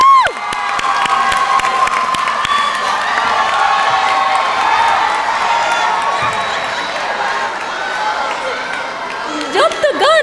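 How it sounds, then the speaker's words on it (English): Graduation audience for a 12th grade high school class cheering and applauding loudly, a sustained roar of shouts, whoops and clapping from a large crowd, with a voice cutting in briefly near the end. "One more round of applause."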